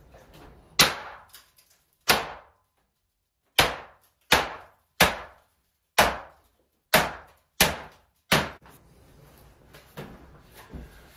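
Sharp, loud hammer blows breaking a large glass mirror, about a dozen evenly spaced impacts with quiet gaps between, each ringing off briefly.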